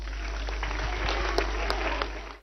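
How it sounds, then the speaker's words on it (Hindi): A crowd applauding briefly, a dense patter of many hands clapping together over a low steady hum. "चलो एक बार सबके लिए तालियां बजा दो"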